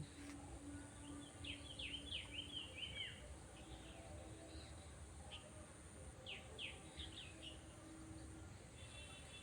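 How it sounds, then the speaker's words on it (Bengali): Birds chirp in a quiet rural setting with no people around; scattered bright bursts of song come in small clusters over a soft, faint background of insects and distant ambience. "এখানে শুধুই পাখিদের কলরব।"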